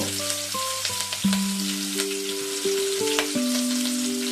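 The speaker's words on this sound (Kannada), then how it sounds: "ಸೋಂಪು ಕಾಳು ಫ್ರೈ ಆಗ್ತಿದ್ದಂಗೆ ಕಟ್ ಮಾಡಿ ಇಟ್ಟಿರುವಂಥ ಹಸಿ ಮೆಣಸಿನಕಾಯನ್ನು ಸೇರಿಸ್ಕೋಬೇಕು" Green chilies drop into fennel seeds frying in hot oil, setting off a close, steady sizzle with scattered pops and crackles, while faint tonal beeps sound in the background.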